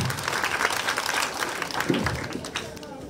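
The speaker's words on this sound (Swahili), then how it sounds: "Tumpigie makofi." An audience gives a round of clapping and applause that continues steadily throughout, with voices mixed into the crowd noise.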